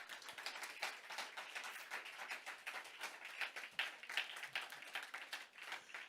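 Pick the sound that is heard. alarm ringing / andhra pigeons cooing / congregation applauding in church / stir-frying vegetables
congregation applauding in church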